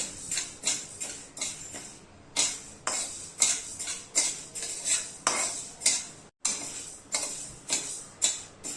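Urad dal dry roasting in a pan, a utensil scraping and tapping against the metal in a steady rhythm of repeated strokes, close and fairly quiet.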